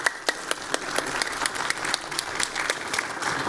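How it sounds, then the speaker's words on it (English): Audience applause for a discussion panel at a data science conference event, steady dense clapping with sharp individual claps standing out, moderately close and sustained without talk. "Hey, let's give a round of applause for this panel."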